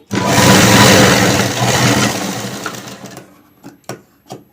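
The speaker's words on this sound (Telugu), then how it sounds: "షోల్డర్స్ రెండు జాయిన్ చేసేసుకుందాం దీనికి మనం కంపల్సరీ డబల్ స్టిచ్ వేసుకోవాలండి" A sewing machine running steadily up close while double stitching the shoulder seams of a blouse, a loud whirring burst that slows and stops, followed by a few light clicks.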